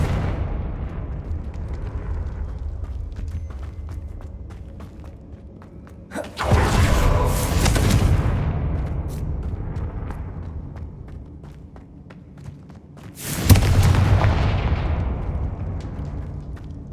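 Two loud Confringo explosion spells in Hogwarts Legacy burst a few seconds apart over a low ambient rumble, each a sharp blast trailing into a rolling, fading roar.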